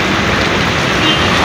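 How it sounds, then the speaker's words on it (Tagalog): Heavy rain pours down in Taguig after a hot, sunny morning, a steady broadband wash of loud, dense rainfall with faint road traffic underneath, continuous and close, no voices. "bigla pong bumuhos. Ayan na po, hindi na po huminto"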